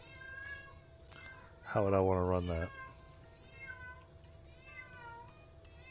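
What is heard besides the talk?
cat meowing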